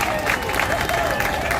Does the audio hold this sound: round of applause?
yes